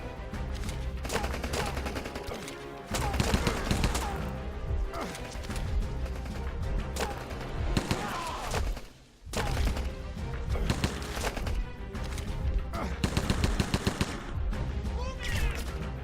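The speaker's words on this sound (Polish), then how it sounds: "Ktoś wystrzelił dwa strzały i musiał przeładować." Shooting in Rambo: The Video Game on PC comes in loud, dense bursts of gunfire mixed with crashes and impacts, with a brief lull midway before the barrage resumes.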